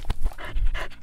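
Dog panting in quick, breathy bursts, close and fairly loud, with a rhythmic huff-huff pattern filling about a second, no speech.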